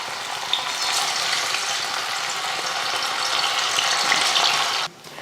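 Marinated anchovies deep frying in hot oil, a dense, steady sizzle that holds loud and close for about five seconds, then cuts off abruptly near the end.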